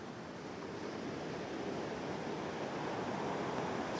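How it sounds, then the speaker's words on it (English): Waves on a driftwood-strewn beach at Opotiki, New Zealand, a soft, continuous wash of surf with a gradual swell in loudness, fairly distant and mixed with light wind, no voices. "This is the beach here at Apotiki"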